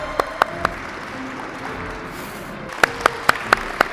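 Scattered single hand claps at a workplace safety contest, three early and a short run of five later, over a quiet room hum.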